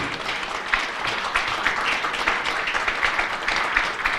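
Audience applause at a Korean political rally endorsing a presidential candidate, dense steady clapping from a large crowd, sustained and even throughout with no talk over it.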